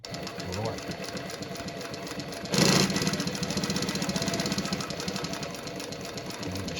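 A Bridgesew 4420 double needle walking foot sewing machine runs with a steady, fast mechanical whir and rhythmic stitching clatter, starting abruptly with a brief louder burst, while a person talks over it.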